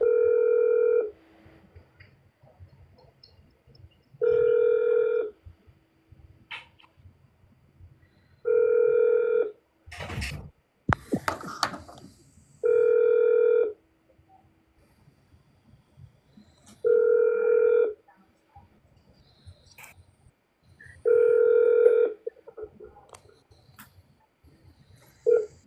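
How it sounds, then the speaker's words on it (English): Telephone call placed to a congressional office, with a repeating ringback tone in long, steady pulses separated by pauses and a short burst of line noise midway. "Dialing."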